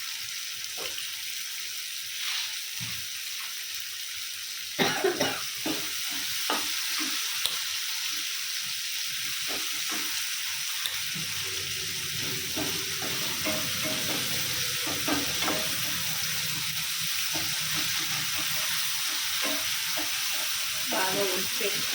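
Food frying and being stirred in a pan, a steady sizzle with clattering stirring strokes and some running-water sounds, close by, with no talk.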